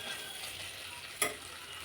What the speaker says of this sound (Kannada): ಇಷ್ಟು 1 ಸೆಕೆಂಡ್ ಇದನ್ನು ಆಯಿಲಲ್ಲಿ ಫ್ರೈ ಮಾಡ್ಕೊಂಡ್ರೆ ಸಾಕು.